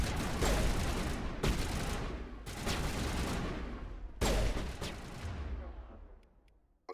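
Repeated bursts of weapon fire in Mass Effect Legendary Edition, a series of loud, sharp shots and volleys in several clusters with ringing decay between them, fading toward the end.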